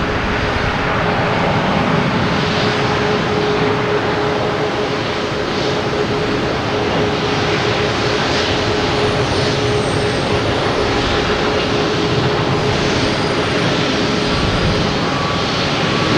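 An Iberia airliner bound for Madrid at Boston Logan Airport, producing a loud, sustained jet engine roar with a steady whine that holds evenly throughout, close by and uninterrupted by voices.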